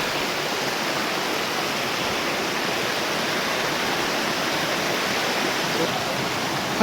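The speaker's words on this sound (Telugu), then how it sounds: "కింద మనకు వాటర్ ఫాల్ లెక్క కనిపిస్తుంది" A loud, steady roar of falling water, continuous and close, filling the whole scene without pause.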